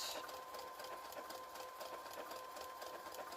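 A Brother CS-80 sewing machine stitching at a steady pace, its needle mechanism producing an even, rapid mechanical whir and patter that stays faint and constant throughout, with no talking.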